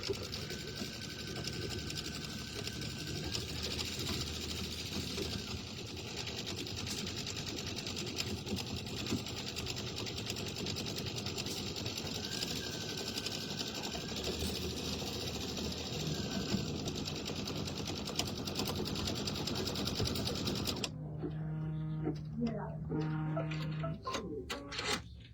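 An embroidery sewing machine stitches the word awesome in hot pink thread, running as a steady, fast mechanical whir with rhythmic ticking that stops abruptly near the end, followed by quieter clicks.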